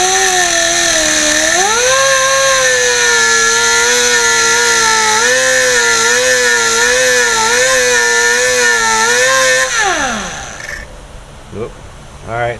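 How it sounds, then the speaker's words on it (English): A cutting wheel grinds through metal on a car, a loud sustained whine wavering in pitch as it bites, then spinning down and trailing off into quieter handling noise. "this is how much room I have to play with the cutting wheel"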